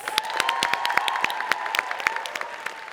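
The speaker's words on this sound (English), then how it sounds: "One more round of applause for those amazing tech nonprofits." An audience applauds for tech nonprofits at a demo day event: dense, steady clapping from a crowd at moderate distance, lasting the whole stretch.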